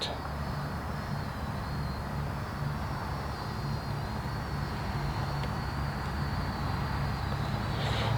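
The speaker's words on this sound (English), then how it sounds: "this is a smooth flying drone" A Parrot Bebop 2 drone flies steadily, giving a continuous high-pitched motor whine over a constant broadband hum, even in loudness throughout with no talking.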